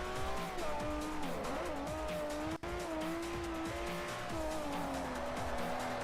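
A Lamborghini Murciélago, likely the LP640, in the video game Forza Motorsport 4 drives hard with a steady high engine drone, shifting pitch and squealing tires, loud and continuous with a brief cut midway.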